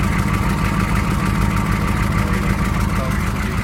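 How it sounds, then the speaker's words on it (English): A 1984 Chevrolet Suburban K20 idles steadily with an exhaust leak, giving a constant, loud low rumble and a fast, even puffing pulse throughout. "Well, there's our exhaust leak down there"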